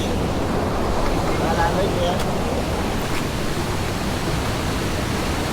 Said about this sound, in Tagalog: Medyo malakas lang yung current ng water